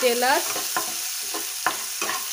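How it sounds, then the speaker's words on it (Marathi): Garlic and ginger paste fries in hot oil, giving a steady close sizzle broken by several sharp scraping stirs of a spoon against the pan. "लसूण आणि अद्रकला चांगलं तळून घ्यायचं आहे"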